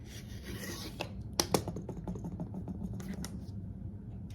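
Scissors trimming excess fabric from a quilt table runner, a series of soft, close snips and rasping cuts with a couple of sharper clicks, no talking.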